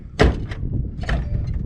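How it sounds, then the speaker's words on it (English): The car door of a 1961 Ford Galaxie Starliner, one that never closed properly, shuts close by with a sharp thunk followed by a softer second thud. "that door never really wanted to close"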